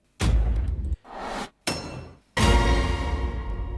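Several metallic, wiry cinematic hits, each a sharp clang with a ringing tail, separated by brief silences before a longer final ring.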